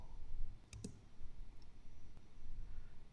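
A mouse clicks once or twice in Zoho Books accounting software, sharp and quiet over faint room hiss.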